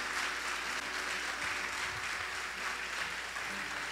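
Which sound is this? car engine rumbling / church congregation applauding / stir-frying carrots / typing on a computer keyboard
church congregation applauding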